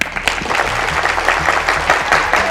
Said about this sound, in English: I want to give Leslie a really big round of applause